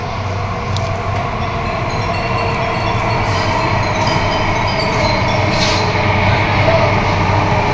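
A Mumbai Aqua Metro underground train runs with a steady, loud rumble and rail hiss throughout, faint higher squeals riding over the continuous roar.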